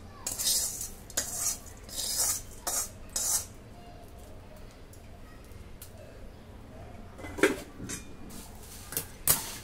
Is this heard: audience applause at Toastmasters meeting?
no